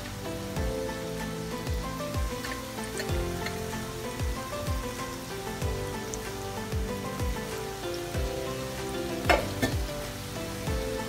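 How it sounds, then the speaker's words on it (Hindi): Chicken strips fry in hot oil with a steady, dense sizzle and crackle, punctuated by repeated low knocks and scrapes of stirring, plus a brief sharper pop near the end; no one speaks. "तो चलिए ये और हम इसी में ट्रांसफर कर लेते हैं, फ्राई करते हैं इस तरह से।"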